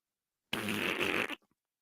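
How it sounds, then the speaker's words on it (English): A single loud, buzzing fart lasts almost a second, close and isolated, then a faint brief sputter trails off into silence. "fart."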